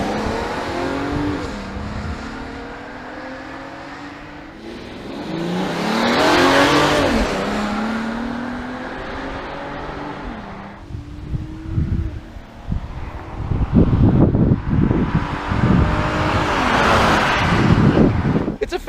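A 2018 VW Atlas SEL V6 SUV accelerates in repeated runs, its engine rising in pitch through gear changes with wind noise over it and bursts of louder revving near the end.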